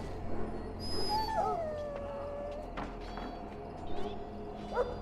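A dog in the fantasy role-playing game Dragon Age: Origins whimpers and lets out a rising, wavering howl, followed by a few faint yips over a low background hum.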